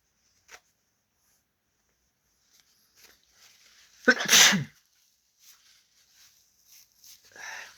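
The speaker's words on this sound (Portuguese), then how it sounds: "Acho que vou ter que espirrar, peraí." A single loud sneeze bursts out near the middle, close and sharp, with a man nearby in an otherwise quiet indoor room and only faint small noises before and after.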